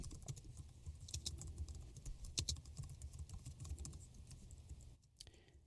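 Fingers tap rapidly on a computer keyboard in a continuous run of soft clicking keystrokes, close and fairly quiet, with a low hum underneath and no talk.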